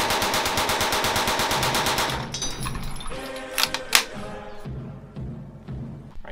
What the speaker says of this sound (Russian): МП-40 — это очень известный, очень крутой пистолет-пулемет.